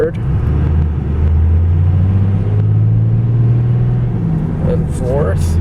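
A 2002 Dodge Ram 2500 Cummins diesel 4x4 pickup with a six-speed manual pulls away, its deep engine drone rising and falling through gear changes, heard close from inside the cab with steady road rumble.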